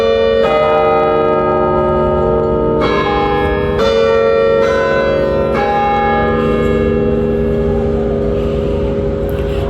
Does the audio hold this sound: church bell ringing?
yes